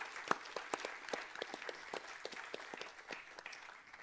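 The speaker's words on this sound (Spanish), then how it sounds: "Let's give the Lord a clap offering." Church congregation applauding during a bilingual Spanish and English service, a quiet, distant patter of many hands with a few sharper individual claps standing out.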